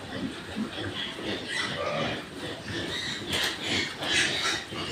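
Pigs on a farm, weighed at around 33 kilograms each, grunt and oink steadily through a busy pen, with broadband rustling and scuffling throughout and no clear talk.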